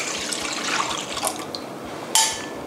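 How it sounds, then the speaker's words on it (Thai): Cold liquid ingredients pour into a batter mixture for fried salad coating, a soft continuous splashing trickle close by with a brief sharper splash toward the end. "แล้วก็เราก็จะเอาส่วนผสมของเหลวเนี่ยใส่ลงไปนะคะ"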